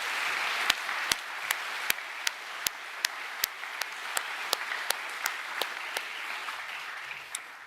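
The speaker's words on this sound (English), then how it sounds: "could we please acknowledge them with a round of applause?" At a school co-curricular awards ceremony, an audience gives the laundry staff a round of applause. It is a soft, steady patter of many hands, fairly distant, with one person's louder, sharp claps landing in a regular beat on top.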